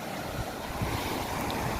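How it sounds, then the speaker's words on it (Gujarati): Rainwater streaming across a farm field after the first sowing-worthy monsoon rain, a steady broadband rushing wash with low rumbling wind-like turbulence, continuous and fairly close, with no voices. "આ તો હમણાં વયું જાય પાણી"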